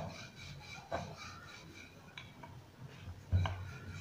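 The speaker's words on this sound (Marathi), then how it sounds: "अलगद हळूवारपणे लाटून घ्यायच्या।" A rolling pin gently rolls out jaggery and peanut poli dough on a board, making soft, faint rubbing strokes and a couple of light wooden knocks in a quiet room.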